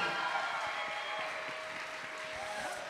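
An audience at an evening arts showcase gives sustained applause, a steady wash of clapping that fades slightly as it goes on.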